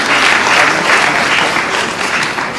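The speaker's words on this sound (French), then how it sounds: "Vous pouvez applaudir." An audience at a mining chamber event in Kinshasa breaks into steady, loud applause, a dense wash of clapping that holds evenly throughout with no speech over it.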